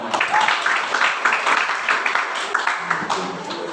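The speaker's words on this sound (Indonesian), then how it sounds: "tepuk tangan dulu semua" Classroom of students applauding, a continuous patter of many hands clapping at moderate loudness for a few seconds, with some voices underneath.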